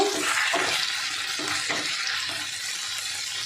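Chopped ginger stirred in a hot frying pan gives a steady close sizzle, with a few soft scraping strokes of the spatula every second or so.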